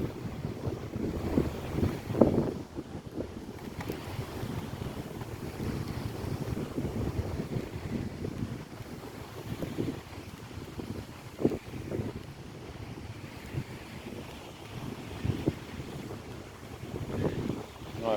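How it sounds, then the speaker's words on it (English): Small waves lap steadily in a small cove on the Suncoast, mixed with gusty wind rumbling against the microphone over a long stretch with no speech. "the water gets a little quieter as I'm walking away"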